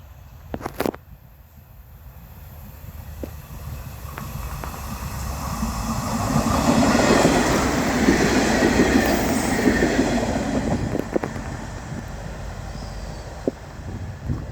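Australian Sprinter passenger train passing trackside, a rising rumble and rush of wheels with hissing and faint squeal swelling to a loud peak midway, then easing off as it moves away, with some clicks and bumps.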